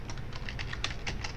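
Fast, light typing on a computer keyboard while working in Word 2007: a quick run of soft clicking keystrokes, close but fairly quiet over a low background hum, with no speech.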